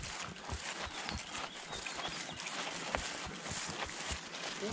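Heavy shire horse hooves on a stubble field give a steady, close clip-clop of muffled footfalls, with no voices heard.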